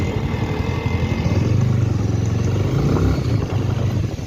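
Bajaj Avenger Street 220 motorcycle engine pulling hard under throttle, a loud, close, steady low rumble that swells through the middle of the run with no talk over it.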